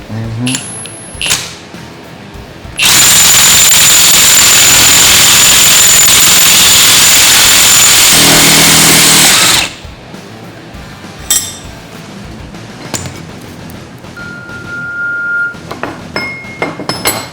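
During a differential removal in a garage, a power tool tightens a fastener in one loud, sustained burst of about seven seconds, with quieter clanks and shop noise before and after.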